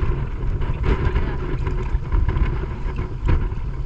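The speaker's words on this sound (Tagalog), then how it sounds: "Napakalakas talaga ang hangin." Strong typhoon wind roars steadily against the microphone on the water while fishing nets are hauled in, a dense rumbling buffet with repeated louder gusts and no voices.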